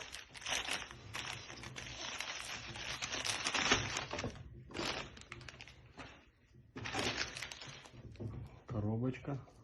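Branded plastic packaging bag around a knife order crinkling and rustling in bursts as it is handled close by, with brief pauses between handlings.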